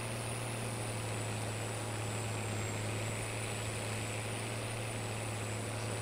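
Steady, low droning hum of an Allis-Chalmers 7080 tractor engine with dual wheels in Farming Simulator 22, constant and unchanging throughout, no voices.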